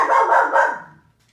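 A dog barks close by, a loud drawn-out bark or two run together, then silence.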